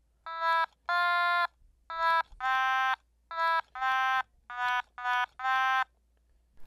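Otamatone playing a simplified second-verse melody in a home lesson: eight nasal, buzzy, voice-like notes in short and longer bursts, clear and close with no talking.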